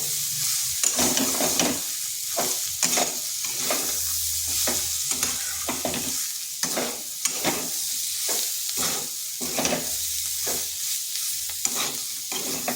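Mung dal and soybeans fry with a steady sizzle in a pan, with repeated scraping and stirring strokes at an uneven rhythm, close by and without any voices.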